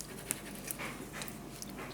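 Dog panting with brief yelps or barks, fairly quiet and somewhat distant, over a steady background hiss.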